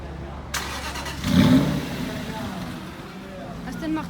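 An Aston Martin Vantage V8 starts up in a seaside street in Deauville: a sharp crank at the start, then a louder deep rumble swelling briefly before settling into a steady idle, with voices nearby.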